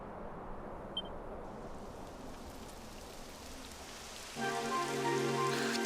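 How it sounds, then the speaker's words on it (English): Steady rain hisses as a constant broad wash in the game Dragon Quest XI, with a few faint drops ticking early. A sustained musical tone joins near the end. "It would have to go and start raining, wouldn't it?"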